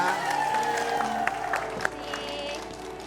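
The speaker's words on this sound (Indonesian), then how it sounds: "Aduh, tepuk tangan dulu dong buat Bulan Sutana." Audience applause after a guest is introduced on an Indonesian TV talk show, a steady wash of clapping with a few sharper claps, mixed with faint crowd noise and background tones.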